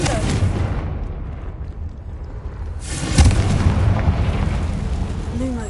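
Fiery spell blasts from Hogwarts Legacy: booming explosions with a loud burst partway through, over continuous rumbling game ambience with no talking.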